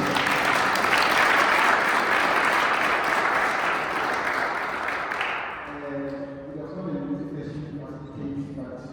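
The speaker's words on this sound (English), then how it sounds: "I just want to appreciate our panel. Can I ask just for a round of applause?" A live audience applauds a university culture-day panel; dense, loud applause fills the first half and then thins and fades as a voice starts talking over the tail.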